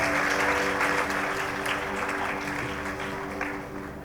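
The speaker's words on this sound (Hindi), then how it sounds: "भूमिका के लिए जोरदार तालियां।" Sustained applause from an assembled audience at a school Independence Day cultural program for a class 10 student, continuous dense clapping that eases slightly toward the end.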